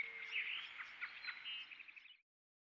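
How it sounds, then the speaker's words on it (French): Several birds singing and chirping in a rapid, bright, overlapping chorus, fairly close and clear, with no talk, ending abruptly after about two seconds. "on entend le chant des oiseaux."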